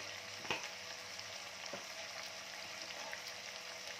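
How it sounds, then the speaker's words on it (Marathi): Chicken and vegetables fry in a pan, a soft steady sizzle with a few faint stirring clicks, heard quietly and without talk. "भाजी आणि चिकन बी पण चांगलं फ्राय करायचं असतं."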